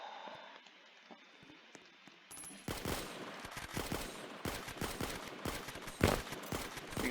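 Towers firing on enemies in a tower defense video game: after a quiet opening, dense rapid machine-gun bursts break out and keep rattling continuously, loud and close.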